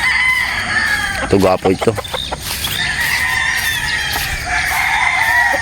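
Sweater Boston gamefowl roosters on a game farm in Batangas crow loudly and repeatedly, with clucking and other birds around, while someone talks briefly over them.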